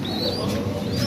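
Pigeons in a loft with their chicks give low, throaty coos, close and steady over a short stretch, with a faint higher chirp above.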